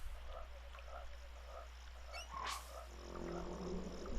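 A frog-hippo creature in the Secret of Evermore swamp gives repeated low croaks over a steady droning game background, with one brighter rising cry midway.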